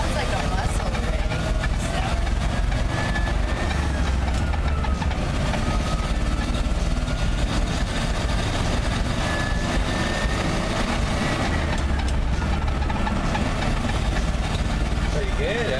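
A 1956 GMC fire truck with its engine running, a steady deep rumble that holds throughout, loud and close inside the cab, while people talk over it.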